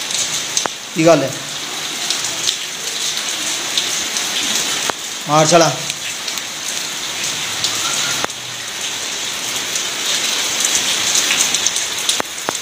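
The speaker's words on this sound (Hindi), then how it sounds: "बड़ी तेज़ बारिश लगी है भी" Heavy rain pours down steadily, a dense constant hiss throughout, with two short bursts of a voice speaking briefly over it.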